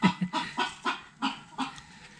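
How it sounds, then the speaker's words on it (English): A big Brahma rooster clucks nearby in a short series of about six or seven rhythmic, moderately quiet clucks, with no talking. "Olaf is a big Brahma rooster that we were trying to find a home for because he's so neat"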